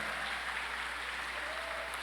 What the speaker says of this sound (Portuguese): Se você vai aplaudir, aplaude direito.